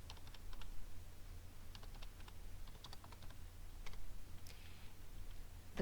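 Typing on a computer keyboard, quiet close key taps in short irregular bursts with brief pauses, over a low steady room hum.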